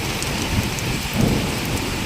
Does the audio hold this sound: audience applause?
no